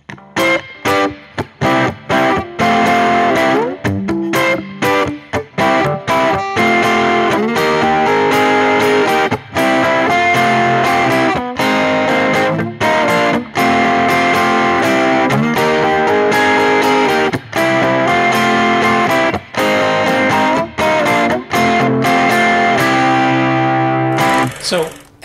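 An early-1960s España acoustic guitar tuned to open G plays a song through a pickup, with loud strummed chords and sharp rhythmic attacks running steadily for about 25 seconds, and no voices.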